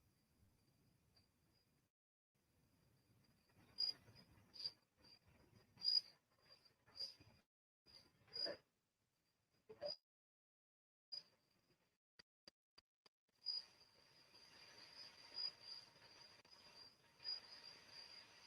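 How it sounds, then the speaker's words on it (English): Crickets chirping at night, very faint, with scattered thin high chirps that become a steady trill toward the end, alongside soft ticks and rustles. "Can you guys hear the crickets?"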